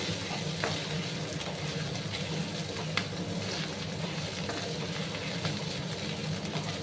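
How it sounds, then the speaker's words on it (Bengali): Ginger garlic paste sautéing in a pan for a potato and egg dish, giving a steady, close sizzle with faint stirring clicks throughout. "আদা রসুনের পেস্ট এক চামচ দিয়ে দিলাম দিয়ে ভালো করে কিন্তু কষিয়ে নিতে হবে"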